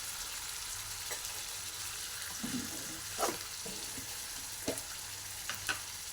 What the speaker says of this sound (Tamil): இந்த எண்ணெயிலேயே பீன்ஸ் கேரட் கொஞ்சம் வதங்கி வேகட்டும்